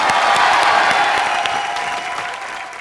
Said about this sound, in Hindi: सनी पाजी के लिए जोरदार तालियां।